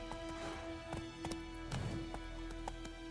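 Roach, Geralt's horse in The Witcher 3, trotting with steady clip-clop hoofbeats close by, heard alone over a low, constant game ambience.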